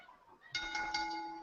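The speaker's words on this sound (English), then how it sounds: "Ring the bell." A bell rung as a podcast sound cue, a single clear ringing strike that starts abruptly after a quiet moment and leaves a sustained, slowly fading metallic tone, close and moderately loud, with no voices.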